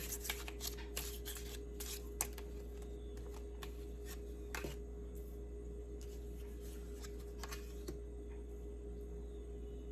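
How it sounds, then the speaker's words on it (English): Tarot cards are shuffled and pulled in a quiet room, giving a run of soft, scattered card slaps and riffles over a steady low hum, with no talking. "Let's pull some more cards and see what else we have"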